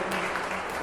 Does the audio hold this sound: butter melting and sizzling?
no